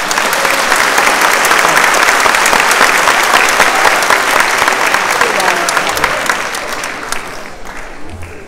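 A graduation audience at a 2019 diploma awarding ceremony breaks into loud, sustained applause with cheering, a dense wash of clapping that holds steady and then begins to thin toward the end.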